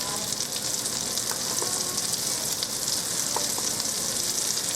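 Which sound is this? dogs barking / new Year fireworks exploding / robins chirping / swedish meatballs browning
swedish meatballs browning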